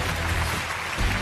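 A studio audience at a televised relationship show claps continuously, a dense, even wash of applause throughout.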